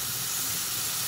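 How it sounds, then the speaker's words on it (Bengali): Oil poured into a hot wok over onions and chillies, a loud, continuous close hiss with no pauses. "পেঁয়াজ মরিচের সঙ্গে তেল দিয়ে দিলাম।"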